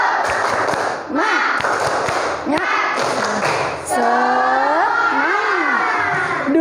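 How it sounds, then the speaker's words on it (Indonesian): A group performs a rhythmic spirit clap during an icebreaker, sharp bursts of claps in a patterned beat mixed with loud shouted chanting voices. "Tepuk semangat."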